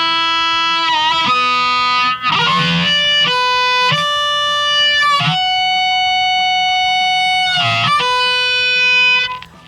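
Harmonica plays a passage, loud and bright with a distorted, effects-heavy tone, moving through held notes and quick breathy bends before fading at the end.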